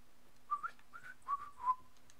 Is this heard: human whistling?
yes